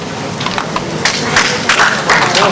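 Clapping from the audience at a TX/RX Labs live-streamed maker event, a loose patter of hands building slightly in density, moderately loud with room reverberation.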